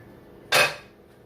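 A single sharp metallic clink as a lid is set onto a skillet of chicken thighs simmering in a creamy sauce with green beans and mushrooms, close and brief, with a short ring fading after it.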